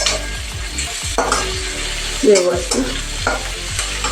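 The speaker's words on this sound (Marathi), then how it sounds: "लसूण पण भाजून घ्यायचं आहे" Garlic, ginger and masala fry hard in a pan for a village-style chicken sukka, with loud steady sizzling and repeated scraping stir strokes; a voice speaks briefly.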